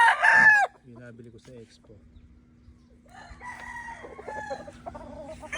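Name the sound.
5K Sweater gamecock rooster crowing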